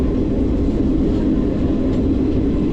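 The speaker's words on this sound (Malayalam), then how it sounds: "ഇപ്പോൾ കുറച്ച് സ്ലോ ആയിട്ടാണ് ട്രെയിൻ പോയിക്കൊണ്ടിരിക്കുന്നത്." An AC passenger train out of Kozhikode runs slowly, heard from on board as a steady, close rumble of wheels and carriage noise that holds even for the whole stretch.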